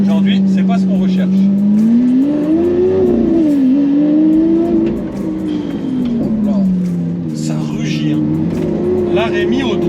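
A Hamann-modified Lamborghini Aventador on an open road revs loudly and continuously, the engine note climbing and falling as it accelerates and eases off, with a voice talking over it.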